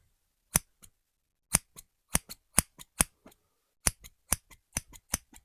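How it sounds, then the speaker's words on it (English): Scissors snip repeatedly in a quiet room, a dozen or so crisp, close cuts in an uneven rhythm, some followed by a faint second click as the blades reopen. "So now it's just the last bit of the snips here."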